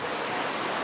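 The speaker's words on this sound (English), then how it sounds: "I hear several million litres of water every second pouring over a precipitous drop" A large waterfall pours millions of litres over a steep drop, a dense, loud, unbroken roar with no gaps and no voices.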